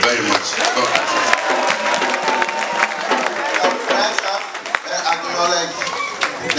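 Audience applause at a conference in Amsterdam, sustained dense clapping from a crowd filling the whole stretch, fairly loud and steady with scattered sharper claps and some voices mixed in.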